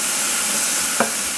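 Capers sizzle in a frying pan as they are moved around, giving a soft, even hiss. A single brief scrape or clack near the end comes from the stirring, and there is no talk.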